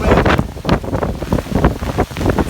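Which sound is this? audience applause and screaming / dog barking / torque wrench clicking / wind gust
wind gust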